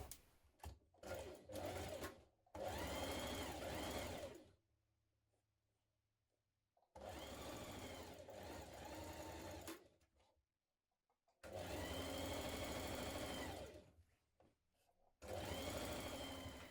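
Sewing machine stitching the shoulder and side seams of a kaftan dress with a 1.5 centimetre seam allowance, loud close rattling runs of several seconds each, separated by short pauses and quiet stretches.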